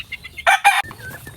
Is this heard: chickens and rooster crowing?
yes